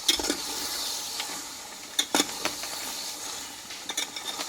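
Spoon stirring mutton curry in a pan, with a few scraping knocks and clinks over a soft steady sizzle, in short irregular bursts, fairly close.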